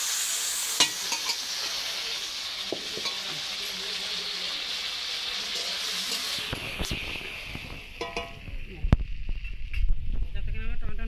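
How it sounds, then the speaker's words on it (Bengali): Tomatoes fry in hot oil in a pan, a continuous sizzle under occasional scraping stirs, shifting to a thinner, brighter hiss partway through with a few sharp clanks near the end. "এবার ওই তেলেতে আমি টমেটো দিয়ে দেবো, দিয়ে ভালো করে ভাজবো টমেটোটা"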